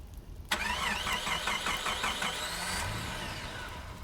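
A car engine starts with a sharp crank and a stuttering whirr of the starter, then catches and settles into a steady idle.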